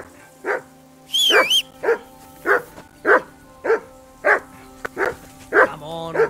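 A dog in Kingdom Come: Deliverance II barks in a steady series of about ten sharp, evenly spaced barks, close and loud, with a brief whistle early on and a whimper near the end.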